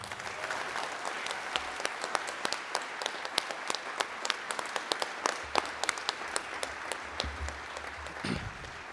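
Audience applause fills a concert band's spring concert hall, a dense, steady wash of many hands clapping with sharp individual claps standing out, loud and sustained throughout.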